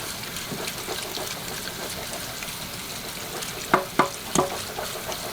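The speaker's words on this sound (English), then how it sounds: "we're going to rinse them under fresh running water" Canned garbanzo beans are rinsed under a running tap, a steady broadband wash of water with a few louder clatters and splashes near the end, no voices.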